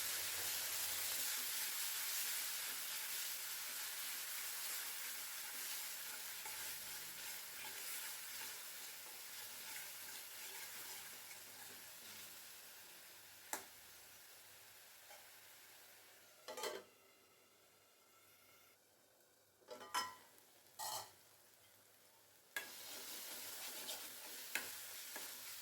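Ground masala paste sautéing in a pan for yam fry, a steady loud sizzle with a few sharp clinks of a spoon against the pan toward the end.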